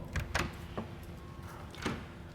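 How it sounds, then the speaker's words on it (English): A door is opened nearby, giving a few soft clicks and knocks of the latch and frame spread across a couple of seconds, fairly faint against a quiet room. "open the door"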